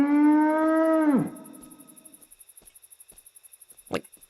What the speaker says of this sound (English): Yeah, that just sounds like a cow call.